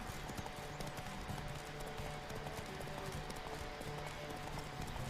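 A horse gallops in the video game Witcher 3, its hooves pounding in a fast, steady clip-clop beneath a dense wash of game ambience, with no talking.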